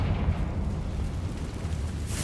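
A Confringo blasting spell detonates in Hogwarts Legacy, a dense, rumbling explosion with heavy low-end boom that fills the moment and holds steady without clear breaks.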